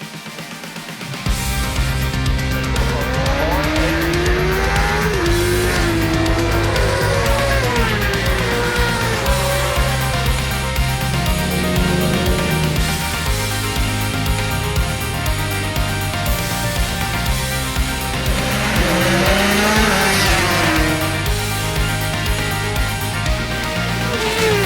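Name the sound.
road racing motorcycles on Olivers Mount parkland course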